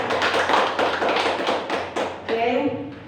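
Hand clapping, a steady series of close, sharp claps with a brief pause, then a voice speaking at the end.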